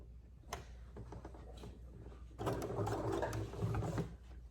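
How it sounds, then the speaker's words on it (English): A sewing machine stitches elastic onto a fabric mask ear saver, starting with a brief whir, then running steadily in a fast mechanical chatter for about two seconds, close and fairly quiet. "Now we're gonna sew it."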